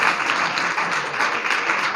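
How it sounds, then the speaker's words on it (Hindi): A church congregation at a Hindi-Urdu sermon bursts into loud, sustained applause, with thick, even clapping throughout. "यीशु के लिए जोरदार तालियां"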